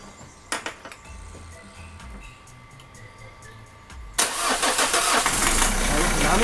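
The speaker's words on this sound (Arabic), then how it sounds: "نحاول نخدمو سيارة" A car engine with an air leak at the injector cranks and catches about two-thirds of the way in, then settles into a loud rough idle after quieter workshop noises and voices.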